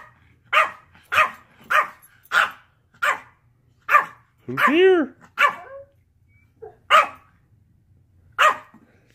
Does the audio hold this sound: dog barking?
yes